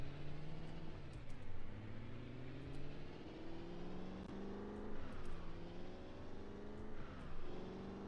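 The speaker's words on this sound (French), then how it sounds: "Je kiffe trop quand j'ai d'accélérer le bruit qu'elle fait." A car engine in Project Zomboid accelerates repeatedly, its pitch climbing in several rising sweeps with brief drops between gear changes, steady and moderately faint with no talk.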